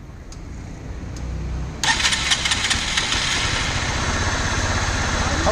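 A car with its original engine starts partway through, catching abruptly after a cranking lead-in, then settles into a loud, steady idle with a slightly uneven, knocking pulse close to the microphone.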